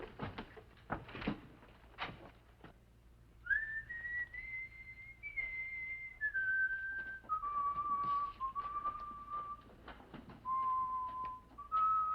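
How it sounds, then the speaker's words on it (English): A person whistles a slow, wavering tune, alone and fairly close, after a few soft knocks and shuffles. "Will you stop that infernal whistling?"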